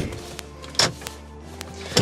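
Electric door locks on a car actuate with several short mechanical clunks and whirs, close by in a quiet cabin, with a louder thunk near the end.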